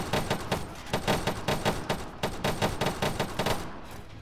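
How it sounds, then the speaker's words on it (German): Rapid bursts of automatic gunfire in the video game Arma III crackle in quick succession, loud and sharp, with brief gaps between volleys. "Oh, Schüsse. Feindliches Feuer."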